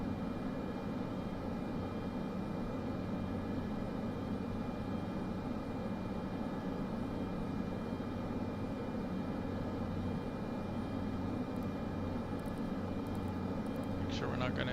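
A Cessna 208B turboprop engine in Microsoft Flight Simulator 2024 drones as the throttle is eased up, a steady low hum with a faint whine that stays even throughout, with a few light clicks near the end.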